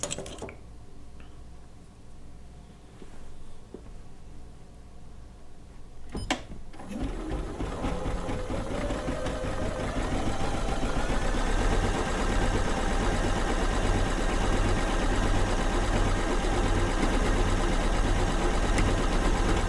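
A quilting sewing machine runs a stay stitch, a tie-off stitch and a thread cut. Quiet mechanical ticks come first, then a sharp click, then a loud, continuous machine whir builds and holds steady.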